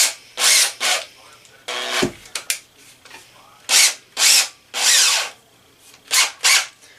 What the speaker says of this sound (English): get it on your drill, and then just go through the same process of getting the rest of this rust marks off of here